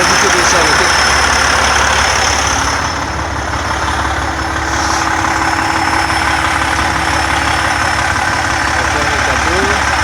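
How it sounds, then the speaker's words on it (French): A truck engine idles steadily and close by during a walk-around check, with a constant low rumble throughout and people talking over it. "Le moteur tourne bien."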